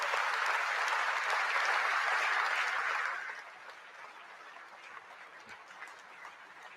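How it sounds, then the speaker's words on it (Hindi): Loud, dense audience applause at a ceremony in Cochin welcoming India's Prime Minister at the commissioning of the aircraft carrier INS Vikrant, steady for about three seconds before dropping to a quieter, sustained clapping. "जोरदार, दमदार, जानदार तालियों के साथ स्वागत कीजिए भारत के प्रधानमंत्री"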